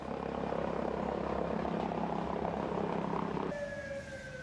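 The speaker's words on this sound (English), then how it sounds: "The helicopter ambulance based at the hospital flew in several critically injured patients." A hospital-based air ambulance helicopter flies overhead, its broad steady rotor and engine roar filling the clip before dropping slightly near the end, with a faint siren-like tone emerging alongside.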